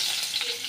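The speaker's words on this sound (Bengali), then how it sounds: "ওই দুটো দিয়ে অল্প ভাজা ভাজা করে নিচ্ছি" Cardamom, cinnamon, bay leaf and slit green chillies fry in hot oil for a katla fish curry, a close, steady crackling sizzle with no voices.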